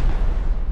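A deep, rumbling explosion in the video game Rust, a short loud boom filling the low end and staying heavy throughout.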